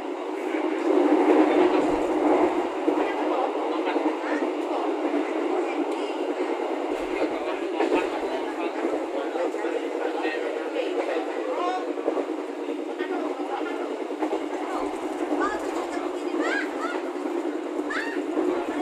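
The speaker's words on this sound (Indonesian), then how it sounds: "kereta api lokal Cepu sudah berangkat dari stasiun Surabaya Pasar Turi" A local economy-class train from Surabaya Pasar Turi to Cepu rolls steadily along the rails with a continuous rumbling drone and faint clatter, heard from on board for an extended stretch.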